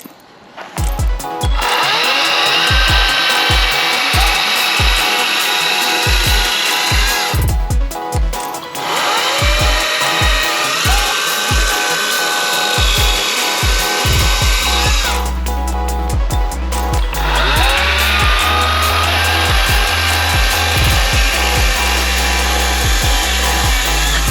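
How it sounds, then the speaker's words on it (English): A loud chainsaw roars continuously while cutting logs for firewood, its engine pitch rising and falling as it bites into wood, with a steady rapid chatter underneath. "use the chainsaw, cut up some logs"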